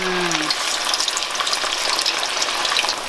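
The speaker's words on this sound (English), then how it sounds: "Now we're ready to deep fry this. Okay, I'm gonna put the first pieces." Marinated Thai-style pork belly pieces deep fry in hot oil over medium heat, giving a steady, close, dense sizzle and crackle that holds evenly throughout, with a brief tone at the very start.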